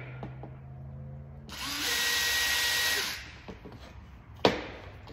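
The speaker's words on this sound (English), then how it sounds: "And I'm cheating a little bit with my drill bit." A power drill drives screws into a sled ski during setup of an Erie Secrets sled kit, a loud steady whir running about a second and a half, then slowing and stopping, followed by a sharp knock.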